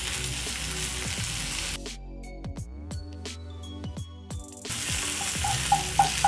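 Vegetables sauté in a pan for a chapati Rolex, a steady broadband sizzle with scraping stirs at the start and end, broken by a middle stretch where tonal, music-like notes take over.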